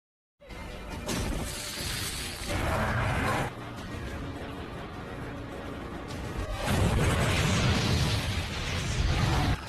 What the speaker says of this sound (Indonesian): sang pemuda mencoba membantu dengan menembakkan panah bom ke arah Diablos